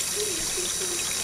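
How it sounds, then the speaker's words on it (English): Material and water are dumped onto a gold washer mat fed by a 350-gallon pump, giving a constant close rush and trickle of flowing water. "I'm dumping the material."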